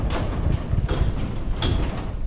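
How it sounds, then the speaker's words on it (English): A Liftmaster 8500W garage door opener lowers the door, giving a continuous low rumbling drone with a few brief rattles and clanks along the way, fairly close and without talk. "we're going to go ahead and close the door"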